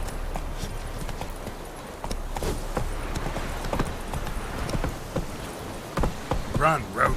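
Hoofbeats of the horse Roach galloping in The Witcher 3, a steady clip-clop rhythm over a noisy game backdrop that sounds like rain.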